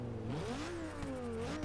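A Toyota Supra engine revs in the racing game Forza Motorsport 6. The revs are moderately loud and close, with the pitch swooping up and falling back over a steady idle.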